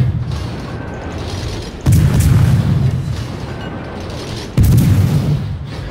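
Warship cannons fire in World of Warships, two heavy booming salvos a few seconds apart over a constant low rumble of naval battle noise.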